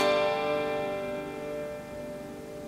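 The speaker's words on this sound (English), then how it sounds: "Without connecting the electric guitar to any of them, it sounds like this." An unplugged electric guitar with no amp gives a single thin, quiet strummed chord that rings briefly and decays over a few seconds, with no voices.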